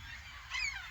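Coastal birds at an isolated island refuge in a US national park give a single faint honking call, distant and brief, over a steady airy background hiss.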